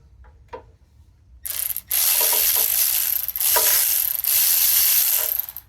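Ratchet with a 7/16 socket loosening bolts, rapid clicking bursts with a harsh rasping texture, close and loud in two or three long runs after a few quieter clicks, no talking.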